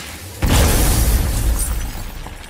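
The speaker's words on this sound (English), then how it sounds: "Want me to shatter it?" A crystal bursts apart in the God of War game with a sudden loud crash that spreads into a long, decaying shimmer of breaking debris.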